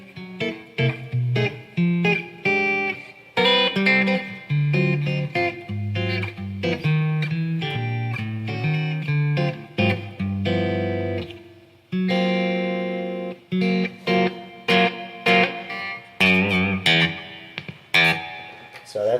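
A clean Squier Telecaster electric guitar, played through a reverb pedal, plays a melodic line of picked notes and chords, each ringing out with a lush reverb tail.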